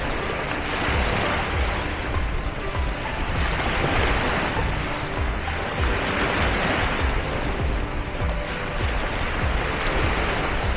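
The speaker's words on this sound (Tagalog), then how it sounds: "May alon, may alon." Ocean surf at Boracay rushes continuously, a broad steady wash of breaking waves with gentle swells in loudness, no voices present.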